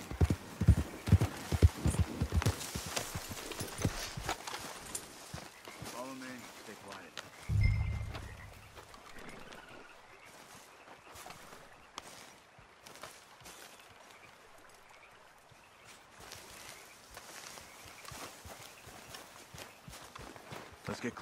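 Horse hooves clip-clopping in Red Dead Redemption 2, a steady run of close hoofbeats that slows and fades as the rider dismounts, followed by softer footsteps and rustling under game dialogue.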